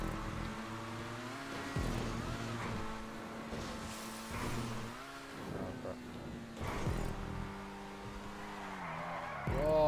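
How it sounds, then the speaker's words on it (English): A car in a GTA 5 race drifts around a corner, its tires squealing in long wavering tones over a droning engine that keeps up the whole time. "I did some Tokyo drift shit around that corner then"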